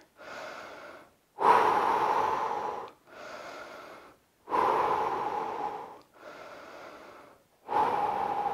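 Someone recovers between home workout sets with heavy, measured breaths, forceful loud inhales followed by quieter drawn-out exhales, repeating steadily and close to the microphone with no talk.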